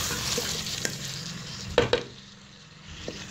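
Peas and shredded cabbage hiss gently in a pan while a spoon stirs them, a couple of sharp clanks of utensil against metal standing out before the sizzle fades a little.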